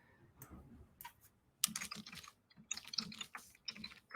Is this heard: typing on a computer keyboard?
yes